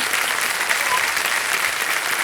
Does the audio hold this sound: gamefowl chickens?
no